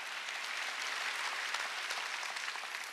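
Steady, dense applause from a church congregation at a Sunday worship service, even and sustained for the whole stretch with no voices rising above it.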